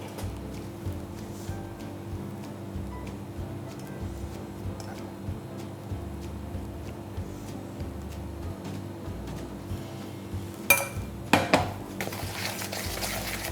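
Cake batter is creamed against the side of a bowl with soft scraping and low thumps, then a few sharper clinks of a utensil on the bowl as warm golden syrup goes in, all close with no talk.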